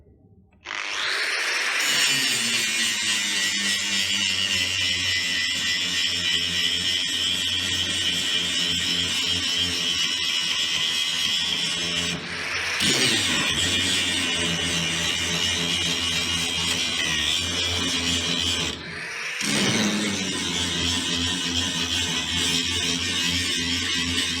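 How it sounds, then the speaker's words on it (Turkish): An angle grinder opening a weld bevel on a metal plate: a loud, continuous, close whining grind that lasts about twenty seconds, with two brief dips where the disc eases off the metal. "Bundan sonra şu bölüme de kaynak ağzı açalım."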